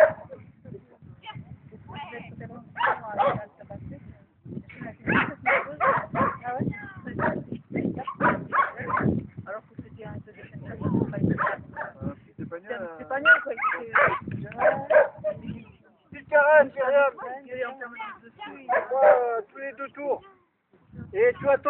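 An Australian Shepherd barks, yips and whimpers in uneven bursts, close by, mixed with people talking throughout.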